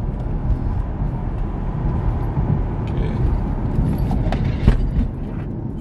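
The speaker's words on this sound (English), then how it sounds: "So I'm about to accelerate and then brake" A car engine builds and drones under acceleration, followed by louder creaks and mechanical clunks as it brakes hard, heard close and continuous.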